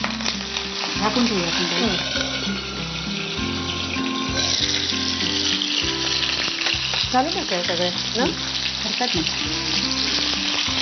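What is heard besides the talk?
potato pieces frying in a covered pan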